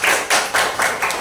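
Applause for a student in a teacher-training class: a short burst of hand claps in about five quick rhythmic pulses, fairly loud and close, with no speech over it.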